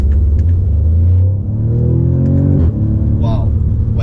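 An Audi S3 fitted with an ABT power kit accelerates hard with a loud, deep engine rumble, the pitch climbing through a gear and dropping at a shift before building again, with a voice talking over it.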